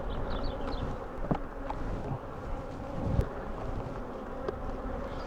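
Honeybees buzzing around a backyard hive, a steady low drone with a few sharper passes close to the microphone, alone without speech.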